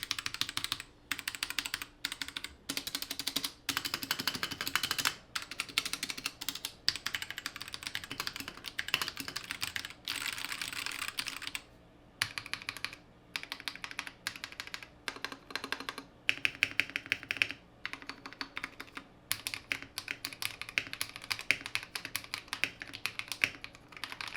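Rapid typing on a stock Royal Kludge RK84 mechanical keyboard clatters up close in bursts of sharp clicky keystrokes, with short pauses between runs.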